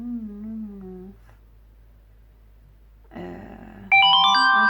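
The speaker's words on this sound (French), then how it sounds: "mais ça m'embête si ça sonne. Je vais faire pause pour déconnecter mon téléphone." Mobile phone ringtone sounding indoors, a bright melodic tune that starts softly and then jumps louder near the end, with a few sung or hummed notes before it and no talking.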